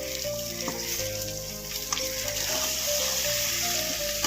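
Colocasia (taro root) sautéing in a pan for a fry, a continuous close sizzle with occasional stirring scrapes, with steady tonal music underneath.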